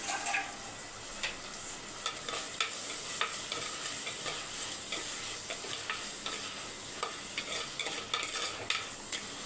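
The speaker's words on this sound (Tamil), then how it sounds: "வதங்கட்டும் வெங்காயம்" Onions sautéing in a pan for a fish and prawn meal: a soft continuous sizzle broken by frequent scraping and clinking strokes of a spoon against the pan, close and fairly quiet, with no talking.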